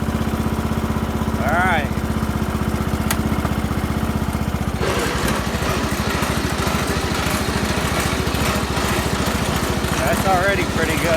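A homemade racing lawnmower engine runs loud and steady in first gear, then surges into a rougher, harsher roar partway through as the tires spin. Someone speaks briefly over the engine.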